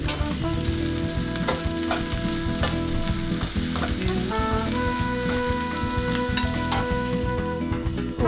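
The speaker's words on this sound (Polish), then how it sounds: "Cebulę przysmażę na patelni." Onion frying in a pan on the stove gives a dense, continuous sizzle and crackle with occasional stirring sounds, steady and close, with no voices.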